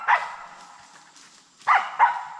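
A hunting dog barks during a ruffed grouse hunt in hot weather, giving one sharp bark, a pause, then two more quick barks close by, with no talk over it.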